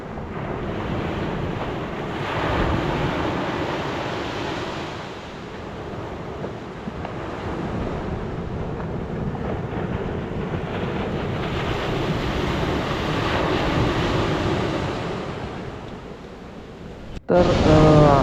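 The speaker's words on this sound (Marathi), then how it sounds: "असं समुद्राच्या काठाला बसून लाटांचा आवाज ऐकत राहणं इतकं प्रसन्न करून जातं." Sea waves wash steadily onto Tarmumbari beach at Devgad on the Konkan coast, a continuous close surf roar that swells and eases, with wind buffeting the microphone and no voices.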